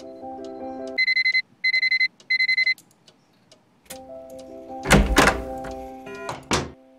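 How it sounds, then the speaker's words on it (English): Alarm clock in the Nancy Drew game The Curse of Blackmoor Manor rings in three short loud bursts, followed by softer tones and a couple of heavy thunks, with no talking. "we gotta set the alarm."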